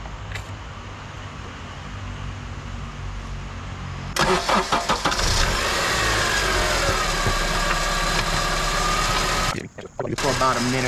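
A 7th generation Honda Accord engine cranks and starts after a quiet stretch of low hum, then settles into a loud, busy idle with a whining power steering pump, with a brief dip near the end.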